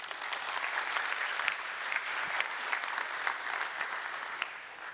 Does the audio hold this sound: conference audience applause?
yes